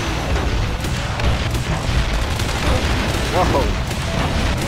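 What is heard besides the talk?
rockets exploding in the video game Shoot Many Robots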